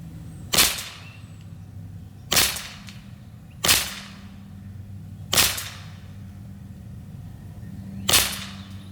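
An ARK17 Strike Industries Glock 17 CO2 blowback BB pistol in .177 caliber fires five loud, sharp snapping shots at irregular intervals, each with a brief hiss, against a quiet background with no talking.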